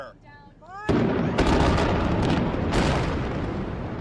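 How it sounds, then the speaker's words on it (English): A controlled blast brings down an old steel span of the Kosciuszko Bridge between Brooklyn and Queens, a sudden loud detonation followed by sustained rumbling roar and crashing that stays heavy to the end. "That's the sound of 22 million pounds of steel coming down in a controlled blast."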